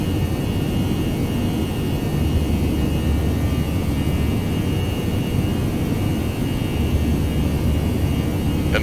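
Simulated jet engines of an Airbus A319 in X-Plane 11 drone steadily at climb thrust, a constant low rumble with a faint high whine and no voices.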